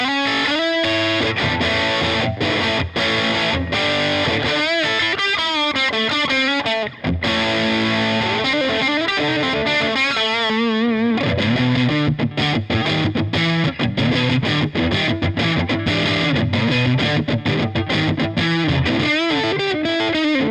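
Electric guitar played through a Chevtone Honeyburst overdrive pedal set to LED clipping, giving a loud, continuous stream of overdriven chords and single-note lines with fairly clear, open distortion and no talking.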